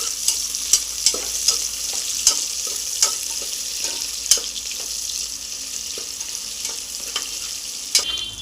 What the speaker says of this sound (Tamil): இப்போ பெரிய வெங்காயம் கட் பண்ணி வச்சுருக்கு, அதை இதில் போட்டுடலாம். நல்லா கலக்கி விட்டுக்கலாம்